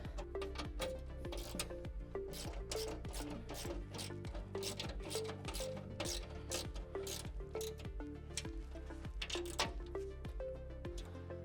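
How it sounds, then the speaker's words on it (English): Carriage bolts on a Bronco 6G slide floor and drawer top assembly being tightened with a ratchet: a fast, steady, close clicking pattern of pawl ticks repeating throughout, loud and without talk. "I'm gonna tighten up these other four, or these other carriage bolts"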